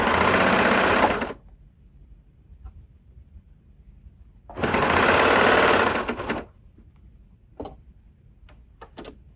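A sewing machine stitches lace onto a sleeve in two steady whirring bursts separated by a quiet pause, followed by a few faint clicks and taps.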